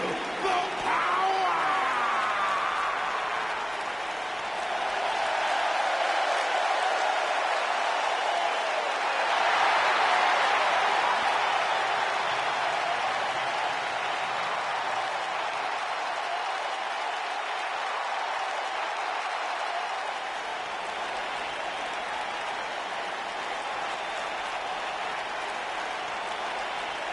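A wrestling arena crowd applauding the tag team champions, a long even wash of distant clapping and crowd noise that runs without a break.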